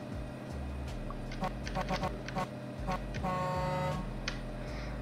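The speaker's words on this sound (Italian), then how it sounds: "un bel assolo di tromba qua, di clacson" A vehicle horn honks in the Farming Simulator farming video game, with short toots early on and then a longer, louder blaring honk, over steady engine-like game noise and a voice in the background.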